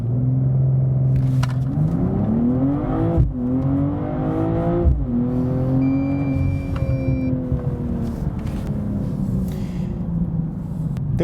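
BMW M240i xDrive pulling hard on a freezing road, its engine droning loud and steady with rising pitch sweeps as it climbs through gears, a brief dip between shifts, no voices.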